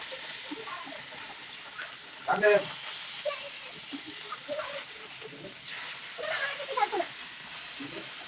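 Pointed gourd frying with rohu fish in a pan, a steady soft sizzle with occasional louder spits and pops, while a person talks over it.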